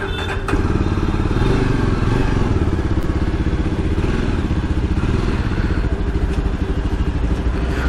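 A motorcycle billed as a Himalayan second copy starts up and runs steadily through a ride, its loud, close engine a continuous rumble with mechanical clatter, no talking over it.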